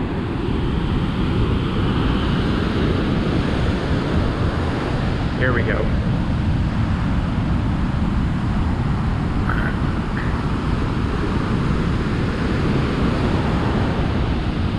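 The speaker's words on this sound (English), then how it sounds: "Some really big waves coming in." Loud, steady roar of big ocean waves and wind rushing across the whole stretch at Blowing Rocks, with a brief spoken remark partway through.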